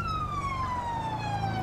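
A police motorbike siren in GTA 5 wails loudly and steadily with a slowly falling pitch over a low engine rumble, with no talk.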